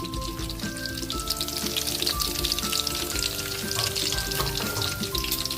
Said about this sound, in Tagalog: luto na po yung ating fried chicken